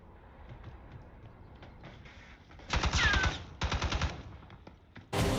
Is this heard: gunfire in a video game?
yes